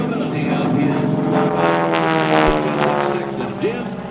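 A Texan propeller airplane flies an aerobatic routine at an air show at Joint Base Andrews, its engine droning loudly and steadily with shifting pitch throughout, while an announcer talks over it.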